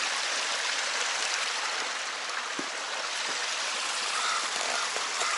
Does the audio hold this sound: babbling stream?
yes